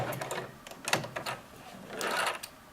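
A sewing machine stitches a lined patch pocket in short, close running bursts with brief pauses between them, fairly quiet and with no talking.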